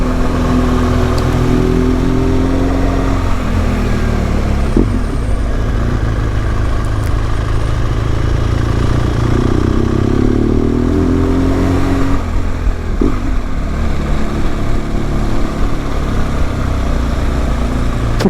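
A car driving ahead on a one-way mountain road, engine rumble and tyre noise droning continuously, with rising and falling revs as it climbs and turns.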